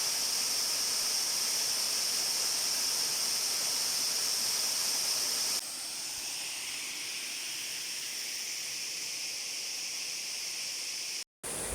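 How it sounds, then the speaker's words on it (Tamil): A small waterfall at Bargur hills pours steadily, a continuous broadband rush of splashing water that holds at one even level throughout, with a slight change in tone partway through and no voices. "இது தண்ணி கொத்துற சத்தம் நம்ம காதுக்கு இனியதாக இருக்குது."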